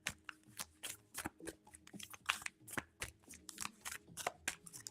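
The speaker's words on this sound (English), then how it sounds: "I'm gonna go ahead and pull your cards for the Moonology Oracle" Moonology Oracle cards being shuffled by hand, a quick run of close, soft riffling and slapping bursts in an uneven rhythm, with no voices.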